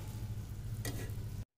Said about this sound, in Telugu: ఆయిల్ అనేది చక్కగా మరుగుతుందండి